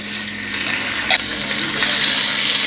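Beef sizzles and crackles steadily in hot canola oil in a wok over medium-high heat, a dense frying hiss with a brief clatter midway and a louder surge of sizzling near the end, no voices.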